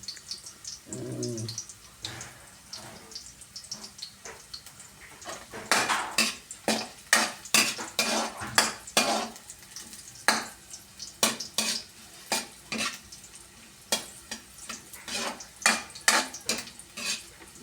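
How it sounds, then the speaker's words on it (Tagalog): Sautéing in a pan as the base for jackfruit cooked in coconut milk: a soft background sizzle runs under a steady series of sharp spatula scrapes and clinks against the metal, close by, with no talking. "Igisa muna natin sa mga kasipag."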